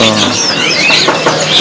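Caged birds at a bird seller's shop chirping and tweeting in a dense, busy chorus of high calls, close and fairly loud throughout the short stretch.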